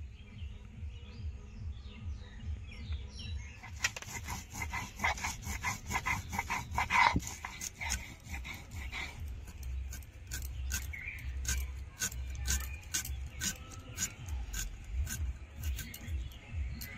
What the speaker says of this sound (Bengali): জিরে, আদা, রসুন, শুকনো লঙ্কা বেটে নিয়েছি।